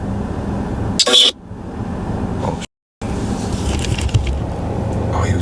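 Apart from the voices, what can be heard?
truck driving past outside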